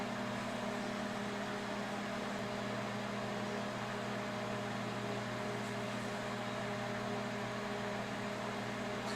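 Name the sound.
microwave oven running while cooking keto bread in a mason jar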